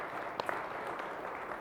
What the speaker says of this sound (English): a round of applause for them for being here